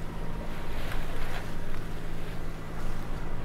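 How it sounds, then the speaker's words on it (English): A sailboat under both sails, close hauled on the Irish Sea with its engine running, gives a steady low drone beneath continuous wind and water rush, even and unbroken throughout. "Still got the motor on for a little bit of extra push."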